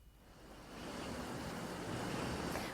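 Rising Beas river in Mandi, Himachal, running high: steady broad rushing of water, a continuous wash that swells slightly louder after the first moment, fairly faint and uninterrupted, no voices.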